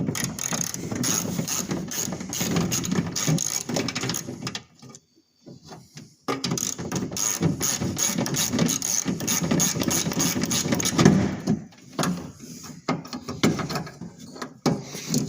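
A 3/8 socket set ratchet clicks rapidly while loosening a window motor bolt in a first-generation Cummins truck door, continuous mechanical ratcheting with a short pause midway, close and fairly loud.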